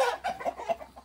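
Chickens cluck close by in a quick run of short, repeated calls, each burst clear and fairly loud over quiet farmyard background.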